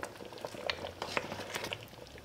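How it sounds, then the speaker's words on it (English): Dhal pitta simmers in a pot on the stove, giving quiet, soft bubbling and popping with light patter. "And then I allow this to simmer for 5 minutes and I'll switch the stove off."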